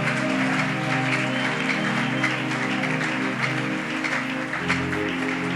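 Church congregation clapping for the Lord at a morning worship gathering, continuous steady applause over a sustained musical hum, loud and unbroken.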